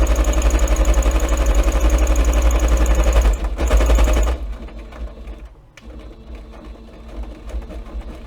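A sewing machine back stitching a fabric notebook cover hums loudly in a fast steady run, briefly pauses, runs again, then stops, leaving quieter handling noises, with no talking.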